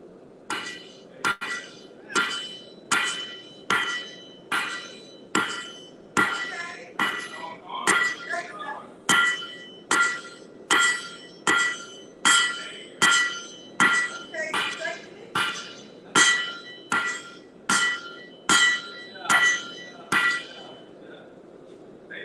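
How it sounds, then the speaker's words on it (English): Metal rings out under steady, repeated blacksmith hammer blows on iron, about one clang per second for over twenty seconds. The ringing is bright and close. "comes over here with that hammer"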